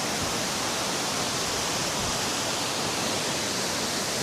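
A waterfall at Palina in Pugo, La Union pours steadily in a loud, dense, unbroken rush of water that fills the whole stretch with no voices over it.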